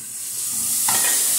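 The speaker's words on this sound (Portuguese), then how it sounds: "Essa panela aqui, já vou acrescentar os tomates." Tomatoes going into a hot pan give a rising hissing sizzle that builds and holds steady, close and moderately loud, with no talking.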